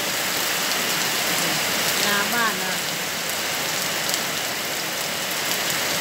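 Steady morning rain falls in front of a house, a dense, even hiss that runs unbroken from start to end, with a brief voice speaking partway through.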